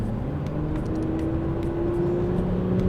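Porsche Macan diesel engine while driving, a steady low hum and road rumble from inside the cabin with a slowly rising engine tone, no one speaking.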